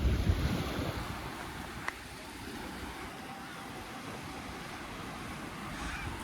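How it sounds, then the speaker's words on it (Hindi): Ocean waves roll onto a beach on the Konkan coast, with surf washing in strongly at first and then settling into a steady wind-buffeted rush, alone with no voices. "ये यहाँ का बीच है"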